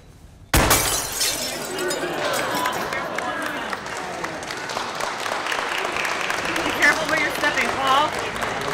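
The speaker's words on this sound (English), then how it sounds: "the breaking of glass" Glass breaking underfoot at a wedding: a sharp crunching smash, then a crowd bursting into sustained applause and cheering that carries on loudly for several seconds.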